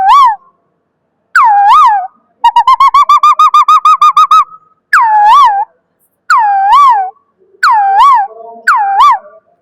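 A man whistles an imitation of the bagiya kirani bird: loud, close call notes in separate phrases with a fast trilling run, and no talk.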